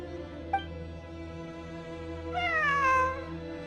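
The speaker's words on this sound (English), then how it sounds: "It really is a cat." In Genshin Impact a cat gives a short chirp and then a long, clear, drawn-out meow that rises and falls. Both sound over a steady, droning game music background.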